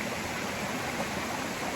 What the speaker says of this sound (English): There's a nice cascade. Creates a little waterfall.